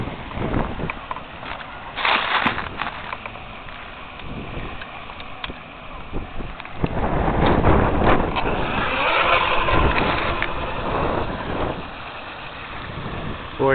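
A small 5-ounce RC cracker box boat with a 2S outrunner motor and 25 mm prop, a buzzing motor whine over water that rises in intensity as it accelerates, heard from a moderate distance with wind noise.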